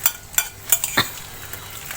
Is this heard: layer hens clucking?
no